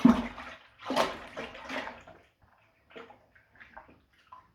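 Water poured into a vessel while making a first batch of mead, 4.5 liters going in; a close, steady splashing pour at first, then a few quieter sloshes and trickles as the stream tapers off.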